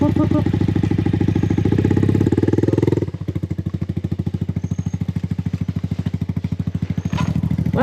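Motorcycle engine on an overnight trail ride, idling loud and close with a rough, steady pulse, revving briefly before settling into a slower chugging idle, with a short burst of voices near the end.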